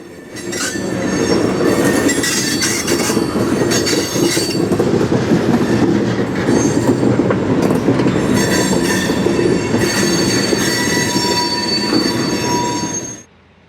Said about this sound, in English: the last hopper car leaves the mill for the last time